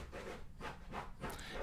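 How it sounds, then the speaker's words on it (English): A pet dog scratching at a chair, producing a steady, close rubbing and rasping scrape that repeats in several rough strokes with no voices over it. "that's my dog scratching on the chair"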